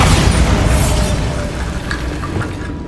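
A Bombarda spell explosion in the video game Hogwarts Legacy, a loud, dense booming blast that fills the whole moment and then slowly decays into a rumbling tail.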